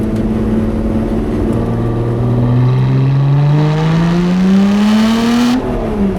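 A Lotus sports car engine revs up through a rising gear on an Alpine road, the tone climbing steadily and loudly up close before a sharp drop as it shifts; no one speaks.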